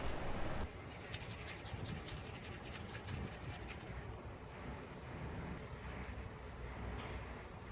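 Scrubbing the metal noise-reduction plate of a Toyota Avanza front brake pad: a quiet, rapid scratchy rubbing that runs steadily, close up, with no talk.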